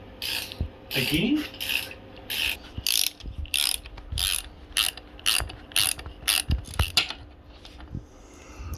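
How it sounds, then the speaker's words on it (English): Repeated ratcheting clicks and metallic cranking as a motorcycle fork part on a Honda CB125 or CB360 is turned with poly grips, in a steady irregular rhythm of short bursts, close and fairly loud, with a brief spoken word. "I just need to give that a crank with a nice pair of poly grips"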